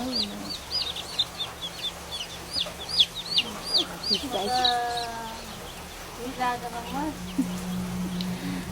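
A hen clucks softly while chicks peep in quick, high, repeated chirps close by, with a steady low hum underneath.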